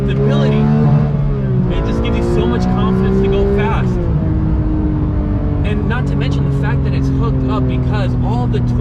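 A Porsche 911 GT3 Touring engine revving and accelerating hard in first gear, a loud high-pitched climbing wail that drops at a shift and then builds again, heard from inside with intermittent clicks and no voices.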